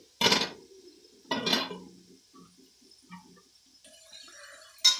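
A metal lid set onto a cooking pot while drumstick leaves cook over a low flame for rice, giving two sharp clanks a second apart, then faint clinks and one more clank at the end.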